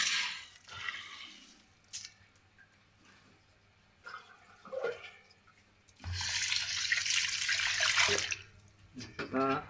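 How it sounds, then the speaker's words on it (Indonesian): Cloudy, milky water from washing rice pours away in a steady rush, loudest for a couple of seconds near the end, with scattered drips, clinks and handling noises before it and light talk mixed in. "Sekarang kita buang air ini."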